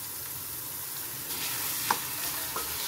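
Half a kilo of mutton mince frying in a pan on a medium-low flame, a steady soft sizzle with occasional stirring scrapes and small pops throughout.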